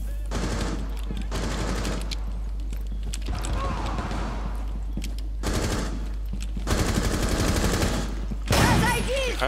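Automatic gunfire in the game Rainbow Six Siege, sustained bursts of rapid shots spanning the whole stretch with brief pauses, loud and close, with a voice talking over parts of it.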